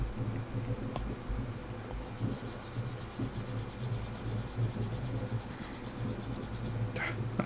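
A stylus scratches and rubs across an iPad glass screen while sketching in the Evernote app, producing soft continuous scraping strokes with brief pauses, close and fairly quiet.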